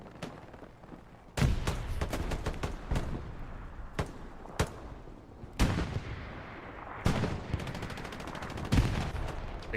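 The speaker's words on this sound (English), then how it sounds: "This MG sees Divinity first." Machine gun and rifle fire in the World War II shooter Hell Let Loose at the Driel brick factory, sharp bursts and single cracks scattered irregularly over distant battle noise, some shots loud and near, others further off.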